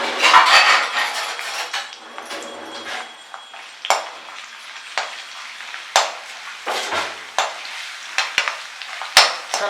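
Chopped garlic, cumin and leaves fry in a pan with a steady sizzle, while a metal utensil gives repeated sharp scraping and clinking strokes against the pan, close and fairly loud.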